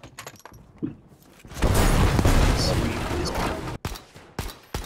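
A loud explosion blasts through a wall in the Battlefield V video game, a sustained roaring rumble after a few sharp gunshots, with muffled shots continuing afterward.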